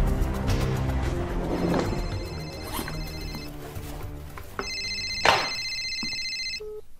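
A telephone rings with electronic warbling tones, a couple of repeated bursts that stand out clearly over low background noise, with no one speaking.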